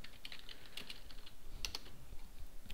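A file name typed on a computer keyboard while rendering in Sony Vegas Pro, heard as quiet, close key clicks in short irregular bursts over faint room hiss, with no talking.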